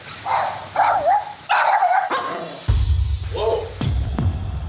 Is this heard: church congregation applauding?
no